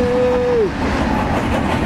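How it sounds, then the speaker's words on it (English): A passing BNSF train rumbles close and loud, a sustained horn note cutting off early over the heavy rolling noise of the cars. "The train's coming."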